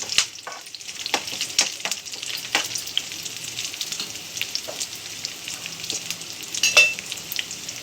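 Spinach fries in a generous amount of oil for a garlic spinach chutney, a continuous crackling sizzle punctuated by sharp pops and stirring scrapes throughout.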